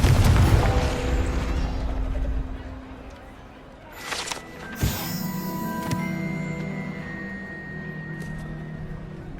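A Confringo blasting curse explodes in Hogwarts Legacy, a sharp booming burst after a rumbling low start, followed by ringing magical tones as a voice speaks.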